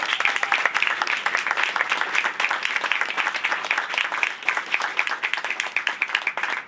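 An audience applauds Naomi at a public conversation event in Melbourne. Loud, crowded clapping from many hands continues steadily for several seconds with no talk over it.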